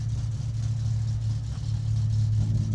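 Game car engine in My Summer Car pulling slowly into a DMV inspection service bay, a steady low idle rumble with a slight rise in revs near the end, loud and close, with no talking.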